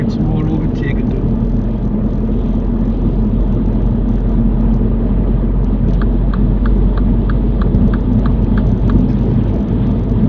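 A learner's car cruising and overtaking on a motorway, with a steady loud road and engine rumble throughout and an instructor speaking over it.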